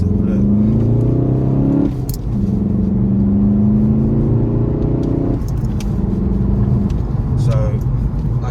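A 2015 Volkswagen Golf GTD with a 2.0 TDI diesel and six-speed manual gearbox pulls hard from inside the cabin. Engine tone climbs, drops at each gear change and climbs again under a steady drone, while a person talks briefly.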